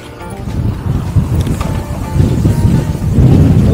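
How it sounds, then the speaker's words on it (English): Strong wind buffeting the microphone as a trike is ridden uphill into a headwind, a loud continuous low rumble that grows toward the end. "Oh, it's into the wind."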